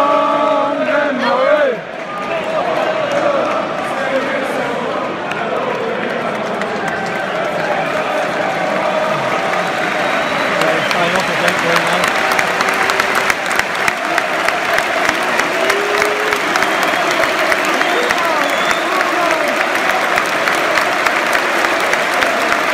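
A football stadium crowd at Brighton against West Brom applauds and cheers as captain Bruno leaves the pitch, with sustained clapping that grows steadily denser and louder. A commentator's voice can be heard over it.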